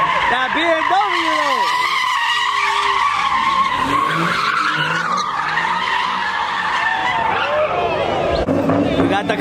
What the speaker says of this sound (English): Got that 2020 BMW putting in some work right now.